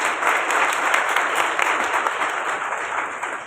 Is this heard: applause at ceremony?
yes